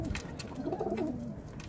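Pigeons coo close by in a loft, a soft low throaty rolling call swelling and fading once over a constant background hiss, with a couple of brief clicks at the start.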